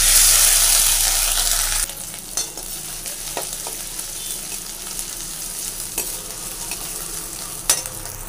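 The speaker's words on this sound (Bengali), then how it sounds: "আদাটা একটু ভেজে নিচ্ছি।" Crushed ginger fries in a pan with a loud, steady sizzle that softens after about two seconds, with scattered stirring clicks and scrapes of a utensil against the pan and no talking.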